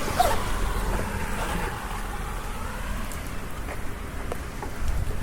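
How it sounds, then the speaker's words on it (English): Light rain patters steadily on surfaces nearby, a soft continuous hiss with occasional louder drips and a low rumble of traffic beneath. "It's raining a little bit less."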